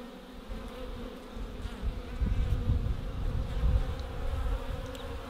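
A dense, steady buzzing of many honeybees at a hive swells and fades, with individual insects passing close by, and no talking.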